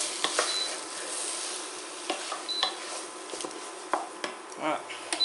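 A chicken and mushroom filling for pastilla cooks down in a pan until no liquid remains, a soft sizzle under intermittent scrapes and taps of a utensil, fairly quiet and near.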